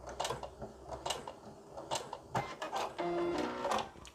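A sewing machine back tacks at the end of a French seam, giving a close, busy mechanical stitching rattle with short bursts and brief pauses, no voices.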